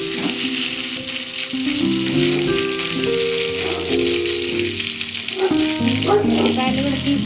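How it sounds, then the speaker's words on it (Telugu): Tomatoes sizzle as they go into a hot frying pan for a tomato roti pachadi. Steady broadband frying crackle runs throughout, with a melodic tonal layer, likely background music, playing on top. "ఇప్పుడు టమాటాలు వేస్తున్నానండి."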